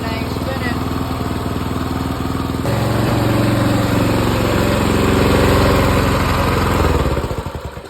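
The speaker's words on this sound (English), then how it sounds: "now we're going to let this thing run for about 10 minutes" A new Predator 224 small engine runs during its break-in. The loud, steady, close-up mechanical drone has a rapid firing pulse that shifts pitch partway through, then falls off near the end.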